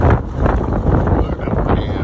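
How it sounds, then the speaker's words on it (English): Strong gusting wind buffeting a microphone at a roadside rest stop near Hamilton, Texas, a loud, constant low rumble and roar filling the whole moment with no break. "Man, it is one windy Tuesday today."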